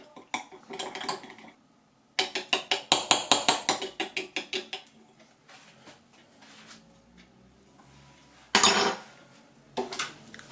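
A pastry brush stirs a smoked and sweet paprika rub in a bowl for pork knuckle, giving rapid clinking and scraping strokes in bursts, close and fairly loud, with pauses and a sharper clatter near the end.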